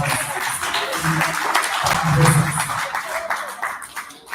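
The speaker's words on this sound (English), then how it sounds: "Let us give a couple of applause." Audience applause at an annual general meeting, a moderate patter of clapping from a modest crowd with a few voices mixed in, fading slightly toward the end.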